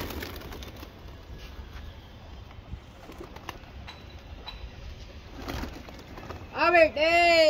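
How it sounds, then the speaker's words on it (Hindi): Colored homing pigeons kept for flying in Bareilly: soft ambient outdoor noise with faint coos, ending in louder flapping and a burst of rising bird calls up close. "सब रंगीन कबूतर है उड़ता हुआ।"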